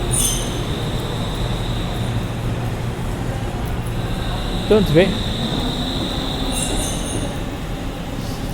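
A metro train pulls away from an underground station platform with a heavy, continuous rumble and a sharp wheel squeal rising and falling near the middle. A person briefly speaks near the start.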